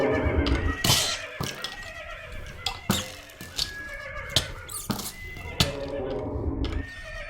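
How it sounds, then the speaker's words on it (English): Horse neighs and whinnies from the video game Minecraft repeat several times against busy game noise, with sharp hits and clatter between the calls. "So let's go over here, attack this horse."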